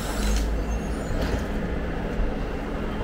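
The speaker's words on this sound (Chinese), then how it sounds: "连续3辆40路公交车，看来堵得慌啊" A line of Route 40 city buses rumbles past in rainy traffic, a close, steady engine drone with a faint hiss that stays loud for the whole short stretch.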